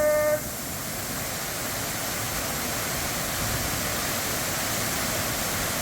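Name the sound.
waterfall flowing heavily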